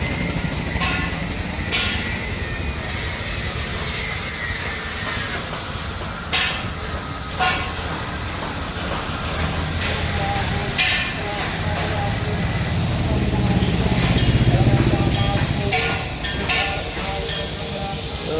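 A diesel engine powers a hand-drawn digital corn threshing machine built at a workshop in Sherpur, running steadily with a continuous mechanical drone and hiss under background voices.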